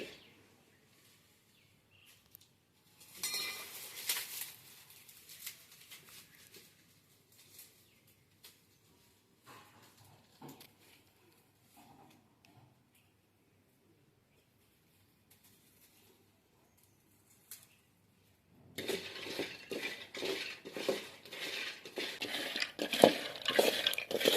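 Peanuts roasting in a pan, with intermittent scraping, stirring and rattling bursts separated by quiet gaps, then a louder, sustained stretch of clattering and scraping near the end.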